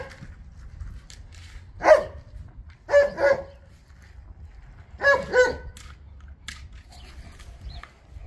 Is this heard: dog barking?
yes